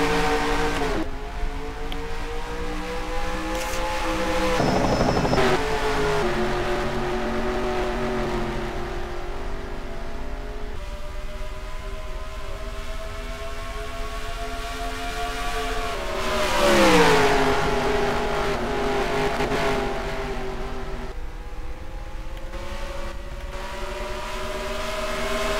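Racing game engines roar as a field of cars takes the green flag at Phoenix, a loud sustained drone with harmonic tones climbing as they accelerate, shifting and surging again mid-run, with no voices over it.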